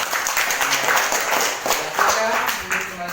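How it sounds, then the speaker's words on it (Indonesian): Audience applause and clapping from a group of university teacher-training students in a classroom presentation in Banda Aceh, a steady broadband patter lasting throughout, with voices murmuring underneath. "Ayo kita berikan aplaus semua."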